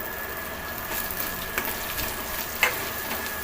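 A green paste of coconut, onion and coriander fries in hot oil, a steady soft sizzle with faint stirring scrapes, close but quiet throughout.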